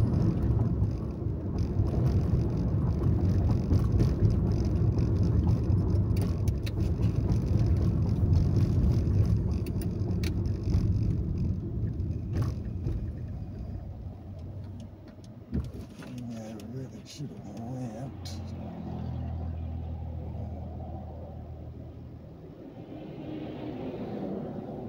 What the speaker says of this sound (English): School traffic.